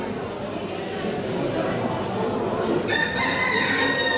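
A rooster crows over a busy poultry fair crowd, the call rising briefly near the end above constant chatter and murmuring voices.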